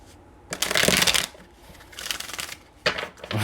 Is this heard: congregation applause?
no